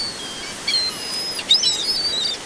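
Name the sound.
seagulls calling on Virginia Beach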